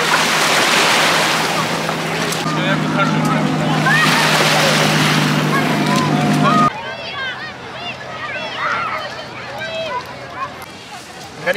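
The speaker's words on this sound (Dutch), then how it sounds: "De zee." Sea waves wash along the beach of the Batumi coast in Georgia, a steady broadband surf that fills the first part, then a quieter shoreline wash, with people talking nearby.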